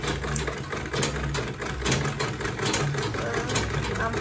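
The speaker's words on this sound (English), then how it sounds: "I'm going to sew close to the zipper teeth" A sewing machine runs close to the zipper teeth while stitching a quilted tote bag, a steady mechanical whirring hum with rhythmic needle ticking for about four seconds, heard up close.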